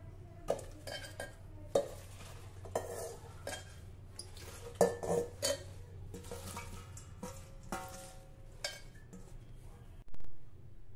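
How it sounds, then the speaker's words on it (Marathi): Washed ambadi leaves dropped into a steel pressure cooker, with sharp metallic clinks and clatters of steel utensils, a few louder knocks and some soft rustling, close and fairly quiet. "इथे स्टीलच्या कुकरमध्ये आता आपल्याला ही धुतलेली आंबाडीची पानं घालायची आहे।"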